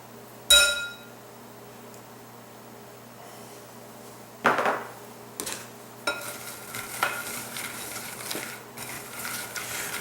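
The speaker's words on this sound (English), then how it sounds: "So we're going to add these to our nuts and we're going to mix them up." Nuts tossed with salt, chili powder and oil in a bowl give a sharp clink, then a short pause, then a run of rattling, scraping stirring strokes that grow busier and continue to the end.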